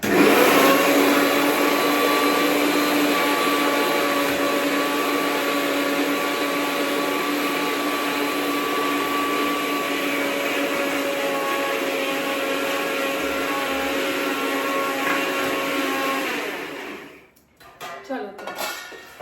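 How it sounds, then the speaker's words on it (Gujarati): A loud, steady mechanical whirring of a mixer grinder grinding semolina runs for about seventeen seconds, then cuts off into a few rattling knocks. "એને સોજીને આપણે મસ્ત પીસી લઈશું પેલા મિક્સરમાં"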